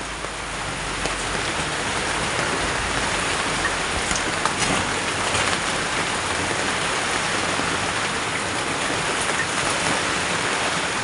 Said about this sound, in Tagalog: matindi ang ulan mga kaibigan